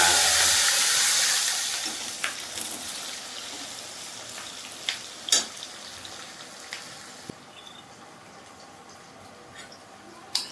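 Chopped onions hit hot oil in a pan where fish has just been fried, giving a loud, hissing sizzle that settles into a quieter, steady crackle with a few faint utensil clicks.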